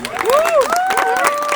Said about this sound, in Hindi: तो इस बात पे एक बार ताली तो हो जानी